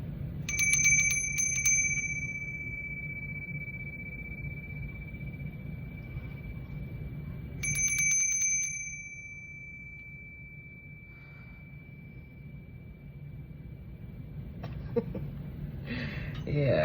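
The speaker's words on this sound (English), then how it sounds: "Let me ring my bell." A hand bell rung twice with a bright, sustained ring that slowly decays, once at the start and again about seven seconds later, over a low steady background hum, with faint voices and shuffling near the end.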